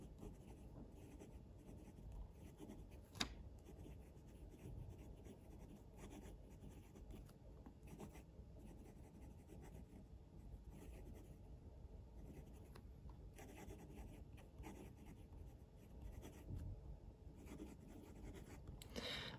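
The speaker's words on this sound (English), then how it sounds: "Let's do some writing." A Sailor Profit Jr fountain pen with a fine-medium steel nib scratches across paper in a faint, continuous close-up scrawl, with one small tap partway through and no talking.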